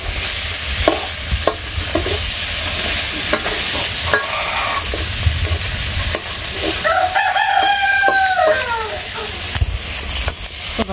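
Onion, green chilli and fish frying and being stirred in a pan over a village cooking fire. A steady sizzle runs throughout, with scraping stirs, and a rooster crows nearby partway through.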